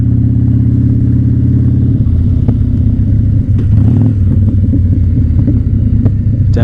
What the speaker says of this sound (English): Downshifting all the way into first just to hear that rumble